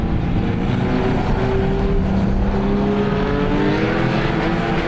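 Race cars roar together at the green flag start of a dirt-track feature, a loud dense wall of engine noise with layered revving tones climbing as the field accelerates away.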